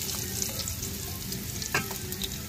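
Ginger fries in leftover oil from fried milkfish, a steady, close crackling sizzle with faint scattered pops and a light stir, no talking.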